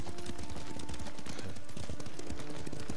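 Horse hooves clop in a steady, quick rhythm during riding in the video game Ghost of Tsushima, a continuous trotting beat heard close up beneath a constant background wash of ambient noise.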